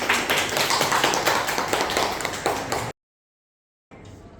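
Hands clap together in a classroom, a dense run of quick applause lasting about three seconds before cutting to silence, then a quieter stretch of room sound.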